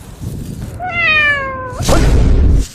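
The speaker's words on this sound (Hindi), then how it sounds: "कभी बिल्ली का आवाज आ रहा है" A single drawn-out cat meow, close and clear, rising then falling, followed by a burst of rumbling noise.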